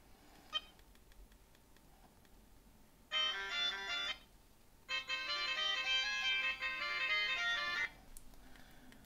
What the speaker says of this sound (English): in music DJ you can compose your own music, but not something too fancy, something which already has here.